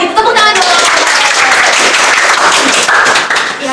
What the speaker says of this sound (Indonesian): Ya gitu tepuk tangan dong.